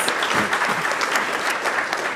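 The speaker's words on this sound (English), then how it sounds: "Let's give one more round of applause for our new friends from London, please." An audience at a Q&A event applauds steadily, a dense wash of clapping hands that holds at an even level throughout.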